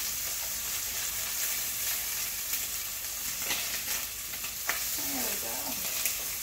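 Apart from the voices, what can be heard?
chicken frying in a pan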